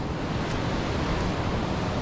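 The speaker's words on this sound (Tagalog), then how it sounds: "Napakaganda ng dagat." Sea waves at evening wash in a steady, even roar of surf, a continuous broadband hiss with no voices present.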